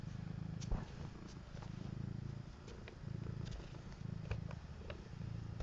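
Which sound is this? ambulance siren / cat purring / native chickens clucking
cat purring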